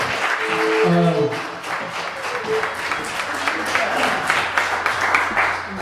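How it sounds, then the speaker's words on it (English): Audience applause and cheering at a Christmas show in Douglastown as musicians leave the stage, loud and sustained, with voices calling out over the clapping. "A big round of applause for them as they take the stage left."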